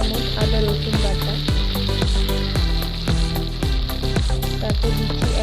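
Chopped onion with green chili paste and ginger garlic paste frying in a pan, a dense steady sizzle under rapid, rhythmic stirring scrapes that repeat roughly every half second, close and loud.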